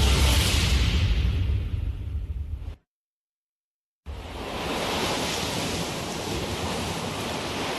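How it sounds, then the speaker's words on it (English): Indian Ocean waves wash onto the shore in a loud, broad roar of surf, breaking before a brief total silence, then swelling back in as a sustained rush of water. "The waves of the Indian Ocean caress the shores like a gentle heartbeat, each wave a pulse of life."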